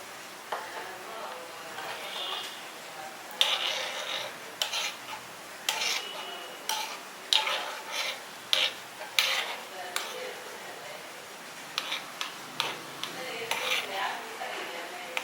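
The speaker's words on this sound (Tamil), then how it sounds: "நல்லா ஹீட் ஆயிடுச்சு இப்போ முந்திரி பருப்பை போட்டுக்கலாம்" Cashew nuts stirred in hot ghee in a pan for green gram laddu, with a utensil scraping and clinking against the metal in an irregular, fairly close rhythm over a soft, low frying hiss.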